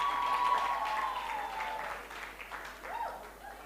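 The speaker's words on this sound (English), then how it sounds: "let's give them a huge round of applause" Audience applause for Team Cavendish at a media challenge expo stage event, a brief burst of clapping that fades within a few seconds, with faint voices mixed in.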